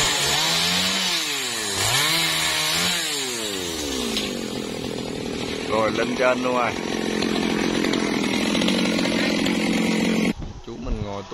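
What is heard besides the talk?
G4500 chainsaw cutting a large dầu tree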